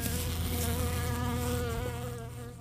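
Honey bees buzz in a loud, dense, continuous hum close by, holding steady throughout and easing off slightly toward the end, with no voices.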